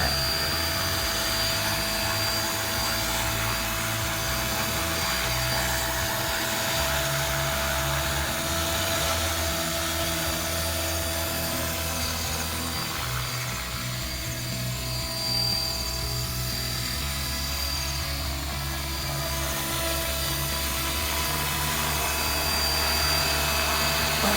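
A radio-controlled UH-1 model helicopter flies steadily, its whining motor and rotor buzz holding a constant droning pitch throughout, close and continuous with no voices.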